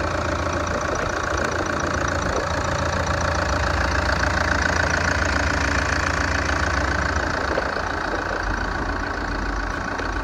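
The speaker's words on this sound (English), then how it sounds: "There it is, the beautiful Toyota 3-litre D4D engine." A 2011 Toyota Prado GXL with the 3-litre D4D diesel engine idles steadily, a dense, even rumble with a faint knocking clatter and no breaks across ten seconds.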